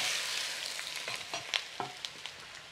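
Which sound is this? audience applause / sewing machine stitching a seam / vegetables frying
vegetables frying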